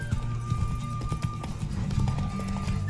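Rapid, rhythmic clip-clop of horse hooves at a steady gallop in The Witcher 3: Wild Hunt, close and fairly loud, with a constant tone humming underneath.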